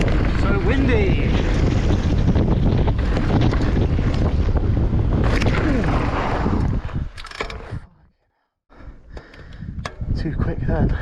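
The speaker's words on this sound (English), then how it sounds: "So windy." Strong wind roars and buffets the microphone outdoors in a loud, continuous rush that briefly cuts out near the end before returning.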